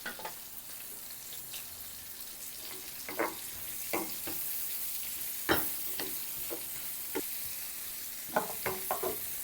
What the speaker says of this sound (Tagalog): Pa-fry muna natin ng konti si sibuyas.